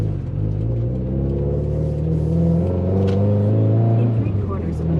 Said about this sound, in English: I roll my windows down because I want you guys to better hear the sounds